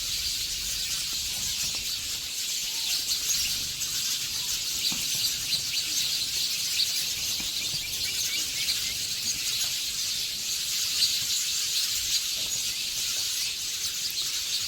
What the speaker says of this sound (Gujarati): આ પીપરનું ઝાડું હે ને એમાં જ એટલી ચકલી આવે